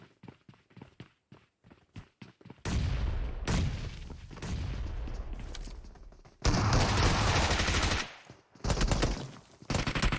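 Close-range SMG fire in a PUBG Mobile esports match: sharp single shots at first, then long dense bursts of rapid automatic gunfire with a brief gap, loud and dominant.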